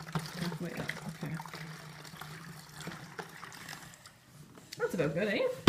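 Vinegar pours into a bottle in a gentle, steady trickle during a kitchen baking soda and balloon experiment, set under ongoing conversation between people nearby.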